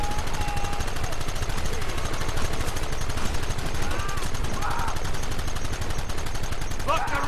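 Rapid gunfire from the Red Dead Redemption video game crackles in dense, overlapping bursts, loud and nearly continuous, with shouted voices mixed into the chaotic shootout.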